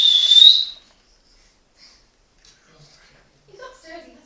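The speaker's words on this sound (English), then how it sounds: "Can you whistle from upstairs?" A person whistles one clear, high, bright note lasting under a second at the start, followed by near silence and then faint, distant voices and soft murmurs.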